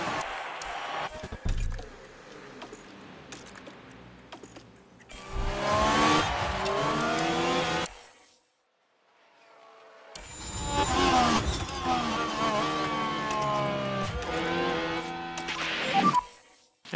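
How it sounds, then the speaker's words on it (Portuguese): Race cars launching off the grid at the start of the Miami Grand Prix in F1 Manager 2023, engines revving and screaming up through gears in loud swelling waves, separated by a brief quiet gap. "As luzes se apagam e começa a corrida."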